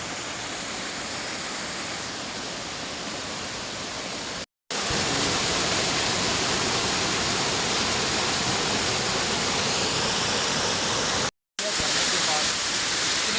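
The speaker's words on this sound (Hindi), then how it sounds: "तो ऊपर एक गुफा है, उसके अंदर से नदी आ रही है।" A river pours out of a cave high in the Uttarakhand mountains with a loud, constant rushing roar. The flow continues without a break apart from two brief dropouts in the recording, and no voices are heard.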